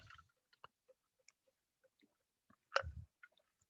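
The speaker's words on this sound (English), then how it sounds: "listen to my puppy trying to chew his way through the back door" Puppy chewing on a wooden back door, sparse faint clicks and gnawing scrapes at irregular intervals with one louder scraping burst, heard quietly from a distance without talking.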